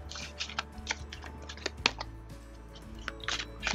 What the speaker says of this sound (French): Je brasse mes cartes.